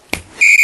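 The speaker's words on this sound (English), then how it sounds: "But when he hears that whistle" A whistle blows once, a sharp shrill blast starting after a brief tap and holding loud and steady to the end.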